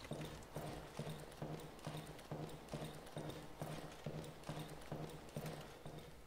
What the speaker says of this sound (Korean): 이 내가 걷는 소리가 무섭게 들려요